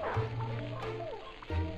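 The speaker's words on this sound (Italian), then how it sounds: "ma c'è un cane" Dog barking in the PS2 game Disney Pixar Up: a few short, close yips and barks over game music and background sound, with no talking.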